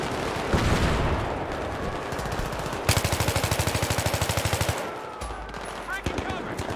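Sustained suppressing gunfire in Battlefield 3: a steady rapid burst of machine-gun shots rattles loudly for a couple of seconds amid dense battle noise, with scattered shots and a voice speaking around it.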